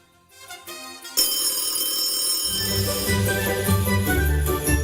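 A telephone bell rings loud and continuous on a radio broadcast for a call-in prize draw, its bright repeating tone entering after a short lead-in and sustained with a low musical bed underneath.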